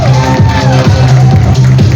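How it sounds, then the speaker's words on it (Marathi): A loud crowd at a corporate award ceremony cheers and applauds, with whoops and shouts riding over rhythmic chanting and a pulsing beat, dense and close throughout. "जरा जोरदार टाळ्या, जोरदार टाळ्या."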